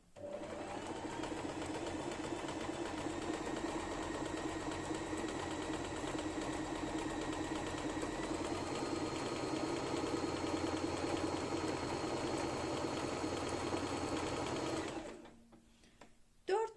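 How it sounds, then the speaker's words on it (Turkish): An electric sewing machine zigzag-stitches along the edge of a bag lining for a knitted bag, a steady continuous whirring hum running for about fifteen seconds before stopping abruptly, followed by near silence and a brief knock. "İlk önce kenarından dikmeye başlıyorum. Elektrikli bir makine bu arada."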